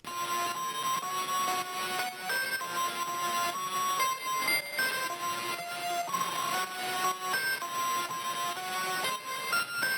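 A dense, sustained Prophet synthesizer texture with shifting tonal notes and bright upper harmonics, playing steadily and fairly loud with no voices.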